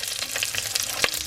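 Curry leaves and ginger sizzle and crackle in hot oil for a masala dosa filling, a dense steady frying hiss with small pops and one sharper crackle near the end.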